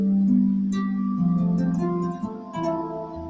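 Baroque flamenco harp improvisation over a set structure, plucked strings ringing in a steady chordal pattern with a sustained bass, played alone and close with no voices.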